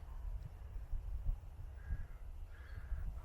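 Two crows call from a tree near an old corral, harsh distant caws rising over a quiet outdoor rumble of wind.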